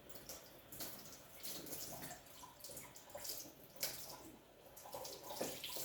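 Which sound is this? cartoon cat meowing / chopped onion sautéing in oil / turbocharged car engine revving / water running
water running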